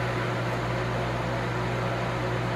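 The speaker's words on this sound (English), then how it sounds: "So I'm going to turn on my Foodi extra large grill right here." A Ninja Foodi XL grill air fryer runs with a steady, even fan whir and a low electrical hum, constant and close throughout with no voices.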